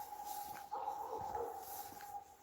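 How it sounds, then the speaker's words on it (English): A dog barks and yelps somewhere up the hill in Russia, a few rough calls at moderate distance over a steady background hum. "hear that bloody dog up there. What a racket."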